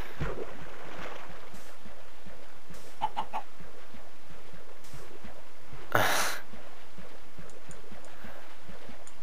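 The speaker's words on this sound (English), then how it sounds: "Chicken's trying to eat me!" A chicken in the Minecraft video game clucks in short, scattered bursts over steady game background noise, with one louder squawk partway through.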